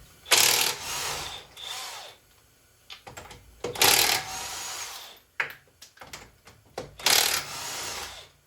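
A 19 mm socket on a ratchet wrench loosens the lug nuts of a Ford Edge front wheel, giving repeated bursts of close, loud ratcheting clicks with short pauses and scattered metallic handling knocks between them.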